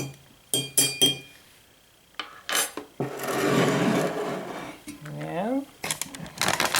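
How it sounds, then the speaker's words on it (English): Saline solution stirred in a neti pot, giving bright glassy clinks and a sustained scraping swirl of a utensil against the pot, with a voice speaking in between. "Stir it around and around and around."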